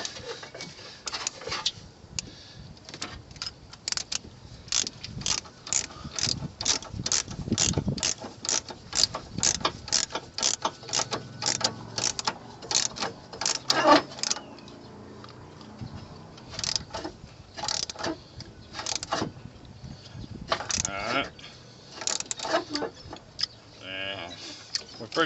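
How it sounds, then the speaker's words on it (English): A 3/4 ratchet wrench tightens front shock bolts on a vehicle, giving quick runs of sharp ratcheting clicks up close, repeated over and over with short gaps and occasional clanks of metal. "Let's tighten this up a little."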